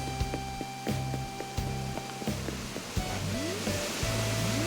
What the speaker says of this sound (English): It's just all of these waterfalls.